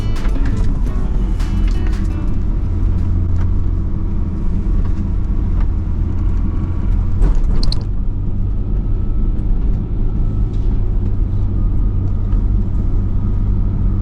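An oncoming car passes on a narrow rural mountain road in Japan, heard from inside a vehicle as a steady low engine and road rumble, with a brief louder swell around the passing moment before settling back to cabin drone.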